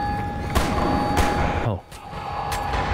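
An auto-fire pistol blasts in Wolfenstein: The New Order, sharp loud shots breaking out in a few bursts over a busy, rumbling game background, with a brief drop in the din near the middle.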